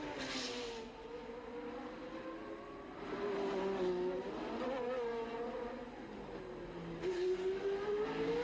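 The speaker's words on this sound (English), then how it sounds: "accelerates away at over 100 miles an hour up the hill in perfect weather conditions, is gaining on Nelson Piquet" Turbocharged Formula 1 race cars from 1981 at Monaco accelerate uphill, their engines rising in pitch as they pass, with a sustained tonal whine and louder surges near the middle and end, over steady background crowd or track noise.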